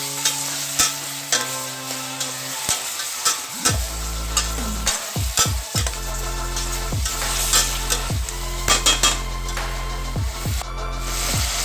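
Tofu chilli in a pan is stirred and tossed, with repeated loud metallic scrapes and clanks over a crackling sizzle, then a low steady hum from the stove that runs to the end, with no talk.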